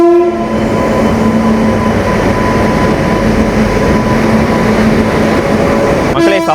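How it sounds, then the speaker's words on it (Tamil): The Nilgiri Superfast train pulls into a station, a loud continuous rumble of wheels and carriages with sustained horn-like tones, rising to a burst of clatter near the end. "இப்போ தான் வந்து நம்ம நீலகிரி சூப்பர் ஃபாஸ்ட் வந்துட்டு உள்ளே வந்து அரைவ் ஆகிட்டு இருக்காங்க."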